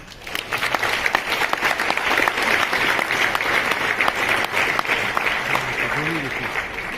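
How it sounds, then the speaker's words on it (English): Sustained audience applause at a global blockchain and tokenization summit fills the room with dense, steady clapping at moderate loudness for the whole stretch, with a brief low tonal sound near the end. "big applause, please"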